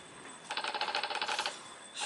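Gunshot-themed key sound from a phone keyboard app rattles out a rapid, steady string of sharp clicky bursts for about a second, quiet and alone, then stops.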